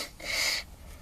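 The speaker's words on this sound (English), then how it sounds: "Excuse me, I had to blow my nose." A person blows their nose once, a brief, breathy honk lasting about half a second in a quiet room.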